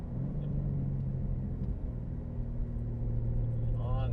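A BMW M3 accelerates on a racetrack, its engine a loud, steady droning rumble with a rising whine near the end as it pulls away.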